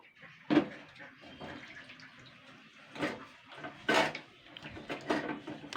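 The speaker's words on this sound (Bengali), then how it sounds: "এবার আমি জল দিয়ে আমি আবারও ধুয়ে নেব" Old, tarnished brass and bell-metal utensils being rinsed with water, giving splashes and a few sharp metallic clinks and knocks of the vessels, close and moderately loud with quieter dripping and handling between.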